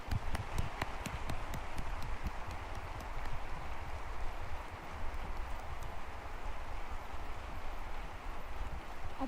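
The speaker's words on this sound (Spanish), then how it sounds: "Aplauden a Xóchitl." An audience at a banking convention applauds presidential candidate Xóchitl Gálvez, producing a steady, distant wash of clapping with a few sharper individual claps standing out near the start.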